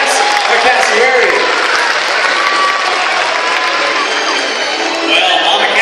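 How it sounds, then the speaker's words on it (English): A live animal show audience at Jungle Island applauds for Mama Cass the cassowary, with loud, dense clapping and some cheering that holds steady, joined by a few voices. "let's give her a big round of applause to Mama Cass, our cassowary"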